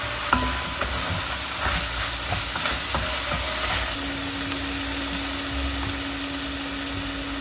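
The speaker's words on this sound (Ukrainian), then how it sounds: "Додаємо моркву та обсмажуємо все разом ще 5 хвилин." Steady, close sizzling of diced vegetables with carrot frying in a pan, with light scraping and stirring sounds and a faint hum underneath, no voices.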